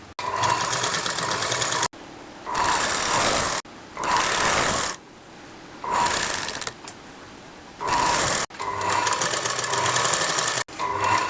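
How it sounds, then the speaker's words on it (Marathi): A sewing machine stitches piping onto a blouse neckline in several separate bursts, each a loud, rapid mechanical whir lasting about a second or two, with short quiet pauses between runs. "गळ्याची पट्टी न ओढता तुम्ही हळूहळू स्टिच करून घ्यायचं आहे"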